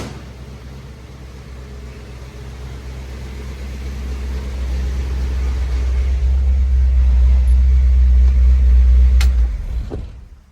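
A white 1967 Shelby GT500 with a 428 V8 and dual four-barrel carburetors idles close by, a deep steady low rumble that swells slightly before cutting off abruptly near the end.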